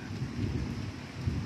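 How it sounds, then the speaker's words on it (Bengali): Rain falls steadily while low thunder rolls beneath it, a soft continuous wash of drops over deep rumbling, with no voices. "একদিকে বৃষ্টি হচ্ছে"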